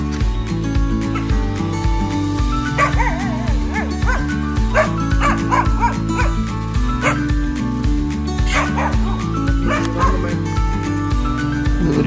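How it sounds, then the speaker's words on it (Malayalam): Several dogs kept in a Wayanad tribal village bark, yip and whimper at visitors, a loud, overlapping chorus of repeated sharp barks, some near and some farther off, over a low background hum. "ഈ ആദിവാസി ഊരി കുറെ പട്ടികളുണ്ട്. ഇവർ വളർത്തുന്നതാണ്. പുറത്തുനിന്ന് ആര് വന്നാലും നല്ല ബഹളമാണ്."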